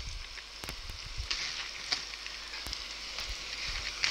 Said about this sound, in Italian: Aggiungiamo poi tutte le verdure, che con la loro umidità faranno continuare a cuocere il nostro sughetto